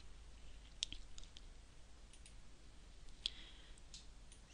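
A computer mouse clicks twice on a website editor button, two sharp, quiet clicks a few seconds apart against faint room hiss, with no talk.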